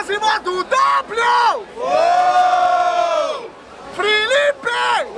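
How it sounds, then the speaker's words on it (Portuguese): Crowd at the Batalha da Aldeia freestyle rap battle in Barueri, SP, roaring and whooping loudly in repeated bursts, with a sustained swell of shouting voices in the middle and harmonic yells throughout. "Barulho para cima do W!"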